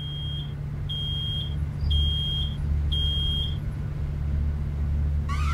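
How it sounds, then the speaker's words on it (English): Alarm in the video game Road 96: a bright electronic beep repeats in four evenly spaced tones, each about half a second, over a steady low engine rumble from a vehicle, with no talking. "It's an alarm."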